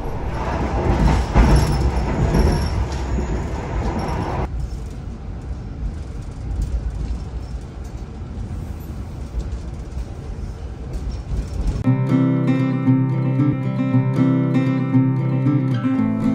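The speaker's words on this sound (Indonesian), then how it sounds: "perjalanan naik kereta api Ciremai kelas ekonomi ini" Interior of a Ciremai economy-class train approaching Bandung station, with a steady rumbling run that drops to a quieter rolling hum midway, then a tonal, droning passage near the end.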